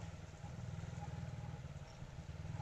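A motorcycle rides along a rough, wet, hilly road in Sylhet, its engine holding a steady low drone with a continuous rattling pulse, fairly close and with no talk over it.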